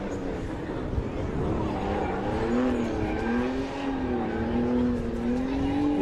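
BMW E36-chassis race car running at FuelFest 2022 in West Palm Beach, its engine note droning steadily and rising and falling in pitch across the run, loud and continuous with crowd and event noise around it.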